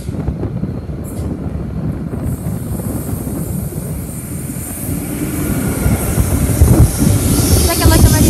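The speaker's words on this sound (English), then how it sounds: "we have a PN grain train approaching platform number 2" A PN grain train hauled by three locomotives approaches platform 2, a steady rumbling roar that grows louder and closer, with faint high squeals near the end, while a voice talks over it.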